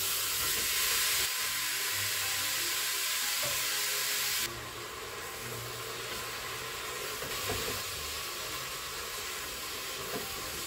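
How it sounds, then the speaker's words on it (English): Minced beef fries in a pot and is stirred, giving a loud, continuous sizzle and hiss with faint scraping underneath. The sizzle drops a little midway. "We now want to add the mince. That's the minced beef. And give that a good stir until the beef has gone brown."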